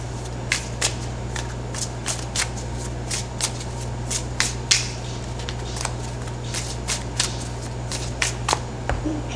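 A tarot card deck being shuffled by hand, a steady run of crisp riffling and flicking card bursts repeating close up over a constant low hum, with no voices.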